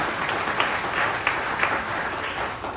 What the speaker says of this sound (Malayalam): നല്ലൊരു കൈയടി ദിലീപ് സാറിനും മേഡത്തിനും കൊടുക്കാം